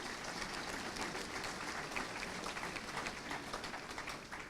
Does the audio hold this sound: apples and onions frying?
no